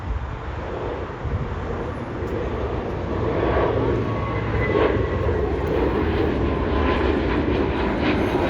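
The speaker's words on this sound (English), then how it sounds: "I just got a plane taking off." An airliner taking off at LAX airport gives a broad, steady jet roar that slowly swells and stays loud through the clip, heard from outdoors at some distance.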